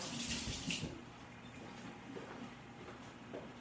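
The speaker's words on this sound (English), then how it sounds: "I want to wash my hands." Tap water runs as hands are washed at a kitchen sink during scone baking, a steady rushing hiss with a louder splashing burst at the start.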